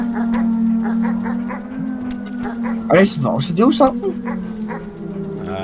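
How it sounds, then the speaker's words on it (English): Small whimpering, yipping puppy noises from the Animal Well video game, a run of short repeated cries with a brief denser cluster partway through, heard over a steady game music drone while a person talks. "making little puppy noises"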